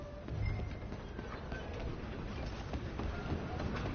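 A train rolls along steadily in the Red Dead Redemption 2 video game, a continuous rumbling clatter of wheels on rails throughout.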